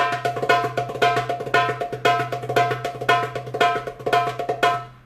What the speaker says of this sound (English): So it's roll tekka, roll tekka, roll tekka, roll tekka.